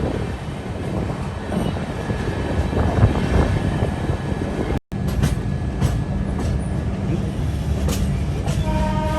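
Godavari Express, a first-class passenger train from Hyderabad, pulls into Visakhapatnam station with a steady loud rumble and wheel noise, broken once by a brief dropout, with faint tonal station sounds later on.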